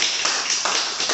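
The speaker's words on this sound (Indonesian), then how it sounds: "Tepuk tangan dulu untuk Anda semua." Applause from a seminar audience at a cryptocurrency presentation, a brief burst of many hands clapping together at moderate loudness.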